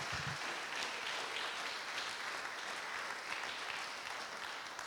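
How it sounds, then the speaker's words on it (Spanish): A church congregation applauds together in a continuous, even wash of clapping that holds for several seconds. "Dele un aplauso al Señor, pero déselo fuerte al Señor"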